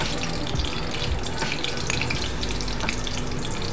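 Bay leaf and whole spices frying in oil in a pan for a vegetarian potato and soybean curry, a soft continuous sizzle with light stirring, moderately quiet and unbroken.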